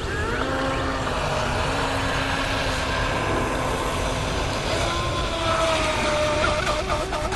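A Pro Boat Widowmaker RC boat speeding across the water, its motor a steady high whine over a broad rushing wash, holding fairly constant and moderately loud throughout, with no voices.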